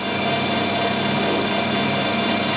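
A lathe-type machine refacing the end of a plastic .22 bullet die gives a steady high whirring hum with a faint scraping cutting texture, close and even throughout, no voices.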